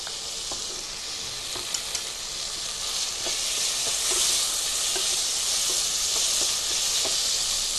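Shelled green peas fry with sautéed tomatoes in a pan, giving a steady, fairly soft sizzle with faint stirring clicks scattered through it and no talking.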